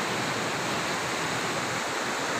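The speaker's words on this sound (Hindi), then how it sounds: "और इसकी लहरें बहुत ज़्यादा डरा रही हैं" Sea waves wash steadily at the shore in Karachi, a dense continuous roar of surf heard up close with no voices over it.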